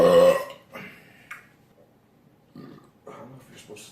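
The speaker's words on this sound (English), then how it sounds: "A lot of burping, but it's not bad." A person's loud, close burp opens the clip, followed by quieter guttural bursts and sounds from the mouth and throat over a few seconds.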